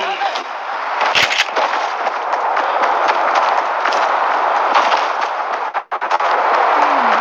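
Rapid continuous drum gun fire in a Fortnite battle royale match, a loud dense stream of shots almost unbroken for seven seconds with a brief pause near the end.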